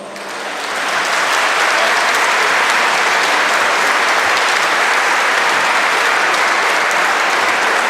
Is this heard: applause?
yes